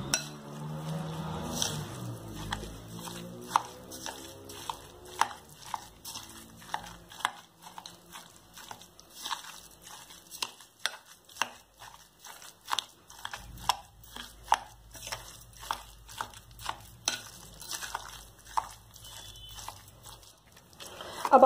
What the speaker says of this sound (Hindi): अभी छेना थोड़ा सा गर्म है, इसलिए मैं चम्मच की हेल्प से इसे हल्का हल्का इस तरह से यूं मैश कर ले रही हूँ